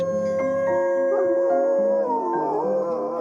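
Several dogs howl together in long, mournful, wavering tones that rise and fall and overlap, sustained and fairly loud with no talking.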